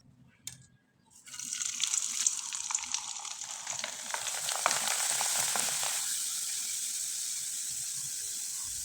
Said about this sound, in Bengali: এবার কিছুটা পিঠা আমি ভেজে আপনাদের দেখিয়ে দিচ্ছি।